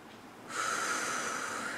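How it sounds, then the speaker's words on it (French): A person draws a deep inhale during a guided relaxation breathing exercise, a single long airy breath rising at about half a second and holding steady to the end, close and clear. "Donc vous inspirez"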